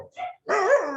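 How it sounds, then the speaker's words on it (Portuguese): Several dogs barking close by at home, in two loud bursts: a short bark first, then a longer run of barking and yelping after a brief pause. "Que meus cães aqui não estão me dando paz."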